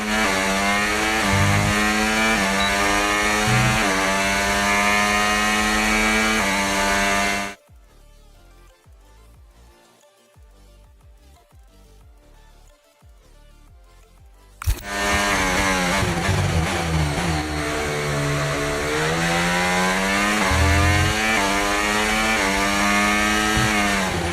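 A racing engine screams at high revs with rising and falling pitch as gears shift, then drops away for several seconds before roaring back loudly.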